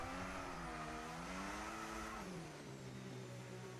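A race car in a Formula racing video game holds a steady, high-revving engine whine with a slight pitch dip partway through, loud and continuous, with no voices over it.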